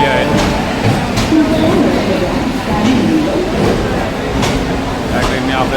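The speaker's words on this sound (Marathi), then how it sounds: "तरी आपली ट्रेन आता आलेली आहे." A Panvel-Diva MEMU train pulling into Panvel station, its steady rumble and rattle of coaches filling a loud, busy platform with continuous noise and occasional sharper clanks throughout.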